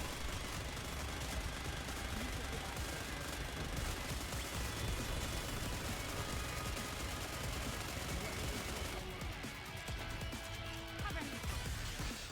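An Aegis cannon firing in a video game unleashes a loud, dense barrage of rapid blasts that roars on without letup, easing slightly toward the end amid busy game sound.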